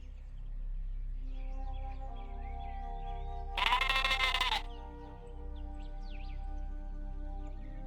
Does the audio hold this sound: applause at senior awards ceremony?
no